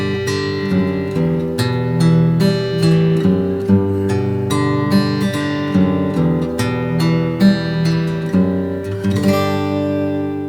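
A guitar plays the outro of a song arranged for solo guitar: a steady stream of picked notes over low, sustained bass tones at a relaxed tempo, close and clear, with no voice.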